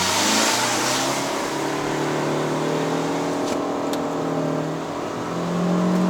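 A 2022 Proton Iriz Active 1.6L hatchback pulls away from a standstill, heard from inside the cabin. The engine revs climb steadily in pitch, ease off briefly as if at a gear change, then rise again.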